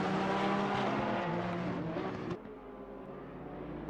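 Race cars including a Ferrari and a Porsche at the Hungaroring in Assetto Corsa Competizione, a loud continuous engine roar with a sudden drop near the middle before it settles at a slightly lower, steady level.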